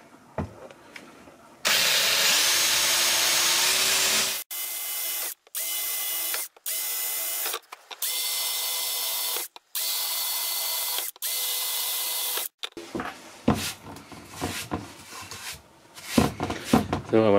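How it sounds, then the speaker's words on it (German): A power drill set to second gear whirs in loud bursts while boring into wood, starting and stopping repeatedly with brief pauses between runs, followed by clattering handling noises and scattered sounds of work. "Bohren, zweiter Gang."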